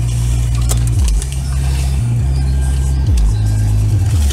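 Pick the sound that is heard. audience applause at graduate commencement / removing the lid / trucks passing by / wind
trucks passing by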